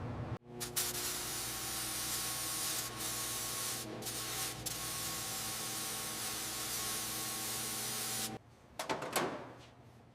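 Spray gun laying a base coat on a car fender: a steady, loud airy hiss runs almost unbroken for about eight seconds, then cuts off, followed by a few short bursts.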